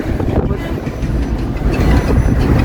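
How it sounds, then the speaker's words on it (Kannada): A long freight (luggage) train rumbles past nearby, a steady heavy low roar with faint rhythmic wheel clatter filling the whole stretch, with no clear voices over it. "ಭಾಳ ಅದಾವ ಲಗೇಜ್ ಟ್ರೈನ್ ನೋಡ್ರಿ"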